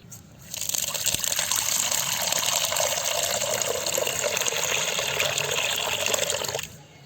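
Water pours steadily into a cooking pot in a continuous broadband gush for several seconds, close and fairly loud, then cuts off abruptly.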